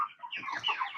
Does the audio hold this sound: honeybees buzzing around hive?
no